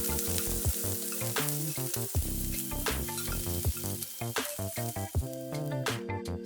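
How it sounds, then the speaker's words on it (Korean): Shrimp and garlic fry in a pan of hot cooking oil over medium-low heat, giving a steady close sizzle and crackle with occasional stirring clatter, no voices. "달궈주면 새우와 마늘 넣고 앞뒤로 노릇노릇하게 지져내고"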